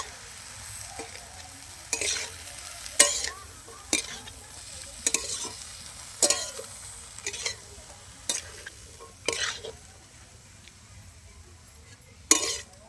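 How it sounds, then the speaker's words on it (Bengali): Spinach with radish and bori is stirred with salt in a frying pan, a soft steady sizzle punctuated by repeated sharp scrapes and clinks of the utensil against the pan at irregular intervals. "এবার একটু খুব ভালো করে আমি নেড়ে চেড়ে নেব।"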